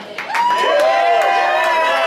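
A concert audience at the Tonic Room, May 2015, breaks into cheering and applause: a loud, sustained crowd roar with whoops and shouts rising over dense clapping.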